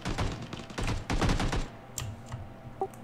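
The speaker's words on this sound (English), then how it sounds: "Gunfire." Rapid bursts of video game gunfire crackle densely for about a second and a half, then thin out to a few scattered shots and faint clicks.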